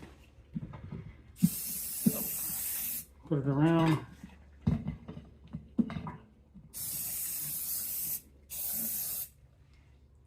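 Several long bursts of aerosol spray hiss, each lasting a second or more, with someone speaking briefly between them.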